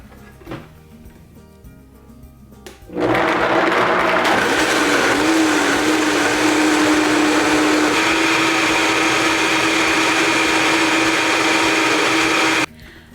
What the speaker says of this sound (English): after you've blended at the highest speed your blender can go for approximately a minute